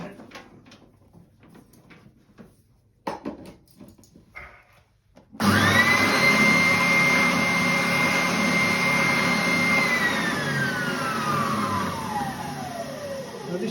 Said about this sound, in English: I've got another machine, and this is called a bobbin sander, and it's an oscillating.